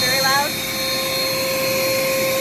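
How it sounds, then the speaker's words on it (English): A vacuum attached to an air seeder runs with a loud, steady high-pitched whine and broadband rush, holding an even tone after a short wavering start. "And then you go to your seeds and you turn on your vacuum."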